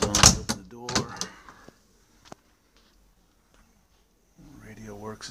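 The door of a 1957 Chevrolet Corvette Fuelie opens with a brief, sharp latch click and a faint clunk, set between stretches of someone talking close by.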